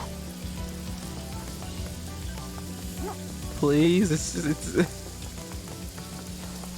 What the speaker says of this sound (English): is there like a disable rain option I could get?